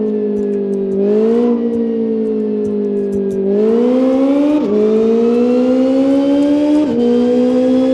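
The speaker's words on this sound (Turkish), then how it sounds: "ben bu yolda bu arabanın ne kadar hız yapabileceğini test ettim" Formula BMW race car in the Live for Speed racing game, its engine droning steadily and climbing in pitch through several upshifts, loud and close with no talk over it.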